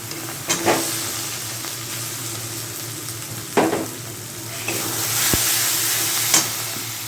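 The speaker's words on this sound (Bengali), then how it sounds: "মশলাটা কষানো হয়ে গেছে, এখন আমি আলুগুলো দিয়ে দেবো।" Potatoes tip into a pan of frying spice paste with turmeric for an egg and capsicum curry. Steady sizzling runs throughout, and a few sharp scraping clatters of stirring come near and loud.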